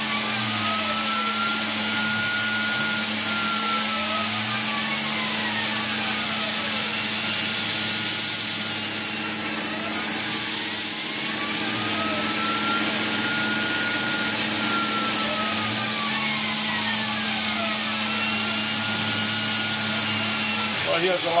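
A Tormach PCNC mill cuts a spiral grease groove on a BSA girder fork part, a steady machining whine with sweeping tonal arcs that rise and fall as the tool moves, running continuously and fairly loud.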